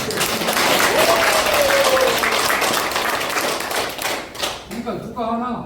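Audience clapping at a welcome gathering in a Pyeongtaek centre, dense and steady applause throughout with a voice speaking over it, thinning out toward the end.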